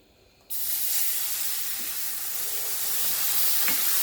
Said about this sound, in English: we are going to start adding that broth